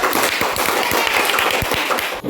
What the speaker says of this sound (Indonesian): Sama kasih tepuk tangan dan meriah buat